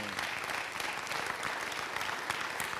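A church congregation applauds during a sermon, a steady wash of clapping from many hands throughout, moderately loud and without any clear talk over it.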